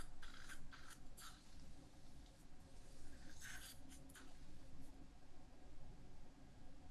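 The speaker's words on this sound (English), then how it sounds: "Now I'm trimming with a scissor." Small scissors trim a collagen graft during dental surgery. Faint snips arrive in two short clusters over a quiet, steady background hiss.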